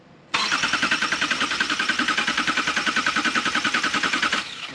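A 2018 Subaru Crosstrek with a junkyard replacement engine cranks in clear flood mode, the injectors not firing, so the starter churns in a fast, even rhythm for about four seconds without the engine catching, then stops.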